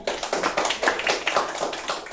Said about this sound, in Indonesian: tepuk tangan untuk pembelajaran hari ini